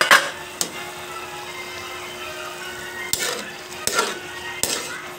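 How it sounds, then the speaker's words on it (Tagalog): Sautéed chayote cooks in a pan with a soft, steady sizzle, and a few sharp clinks of a utensil stirring against the pan ring out close by. "Mukhang kumukulo na siya."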